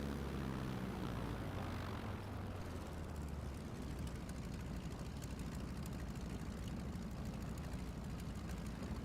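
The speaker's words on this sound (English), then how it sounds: "I'm really happy with how these planes sound too." In Microsoft Flight Simulator 2024, an airplane engine drones steadily with a low rumbling hum that shifts slightly early on, then holds constant and fairly faint.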